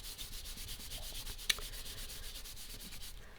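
Paper card stock for an Easter card being rubbed by hand, a soft, steady, rhythmic scratching that stays faint and close throughout, with no voices.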